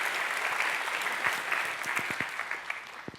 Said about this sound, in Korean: 한번 서로를 향해서 뜨거운 박수 한번 해주시면 좋을 것 같아요.